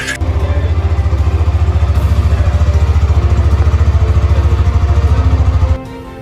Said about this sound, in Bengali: এই বাইকটা দেখেন ইঞ্জিনের সাউন্ড